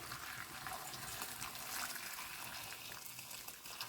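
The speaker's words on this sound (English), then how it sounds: "I've got my boiling water to cover my sweet potatoes." Boiling water is poured, trickling and splashing quietly over sweet potatoes in a pot for several seconds.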